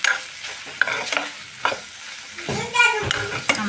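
Rohu fish pieces sizzle in a pan of cooked-down spiced masala and are stirred, with repeated scraping strokes over a steady fry, close and moderately loud with no talking.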